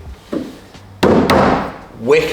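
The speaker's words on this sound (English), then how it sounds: "you can't shut the door without everyone knowing about it" A few thumps and knocks, then the solid door slam of a road-legal Ford Fiesta XR2 racecar with a short echoing tail, followed by a voice starting to speak.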